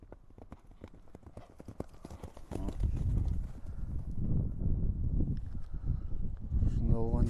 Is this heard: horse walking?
yes